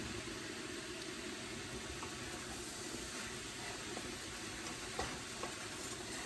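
Eggs scramble and fry in a pan while fried rice cooks, a steady, dense sizzle holding evenly throughout with a couple of faint clicks near the end.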